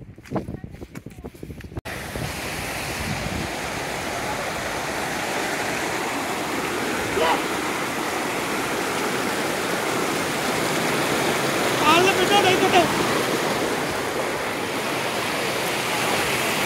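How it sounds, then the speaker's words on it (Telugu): On the trail toward Vasudhara waterfall in Uttarakhand, a broad, steady rush of falling water fills the air without pause, with brief wind buffeting at the start and faint distant sounds drifting over the roar. "మీకు చూపిస్తాను వసుధార జలపాతాన్ని"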